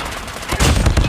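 Rapid gunfire rattles in a COD Mobile multiplayer match, a loud, close burst of several quick shots growing denser in the second half, with no talking over it.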